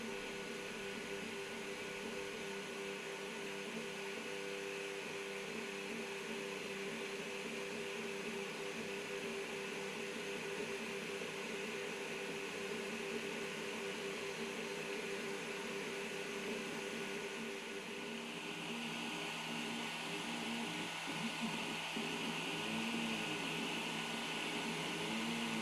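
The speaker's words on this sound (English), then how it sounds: "And yeah, you can hear the fan" Cooling fan of an Alfawise U20 3D printer running, a steady loud whirring hum with shifting tonal whines from the stepper motors, continuous throughout without any talk.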